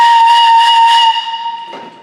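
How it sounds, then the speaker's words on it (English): A pre-Hispanic double pipe is blown hard, producing a loud, steady, piercing whistle with two clashing tones for about a second before fading into a breathy, weaker hiss. "the blowing just make the air go into the second pipe and make this dissonance"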